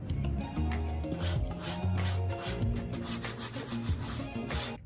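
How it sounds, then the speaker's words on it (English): Continuous rough rubbing and scraping of sandpaper on wood by hand, in steady back-and-forth strokes, close and fairly loud. "I'm just going to sand it a little bit"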